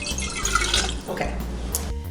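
Tap water runs and splashes into kitchen cups during a home chemistry experiment, a steady close pouring with small drips and shifts in flow.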